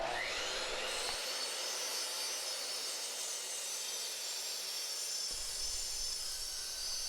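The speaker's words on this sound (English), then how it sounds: "The 82 finish blade on the miter saw does a great job at making smooth cuts." A miter saw fitted with an 82-tooth finish blade cuts a Douglas fir 4x4 post, a steady high whining cut that runs for several seconds, loud and close, with no talking.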